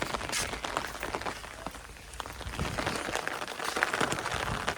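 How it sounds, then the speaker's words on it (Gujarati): Rain falls steadily on a farm field, a broad hiss of drops with scattered louder patters close by, continuous throughout with no talk. "વરસાદ પડો ભાઈ."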